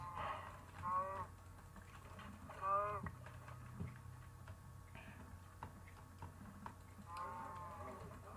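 A cow in the video game Minecraft moos three times, near and fairly loud, with soft ticking game sounds and footsteps in between.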